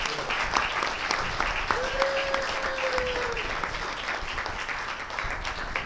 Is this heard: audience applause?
yes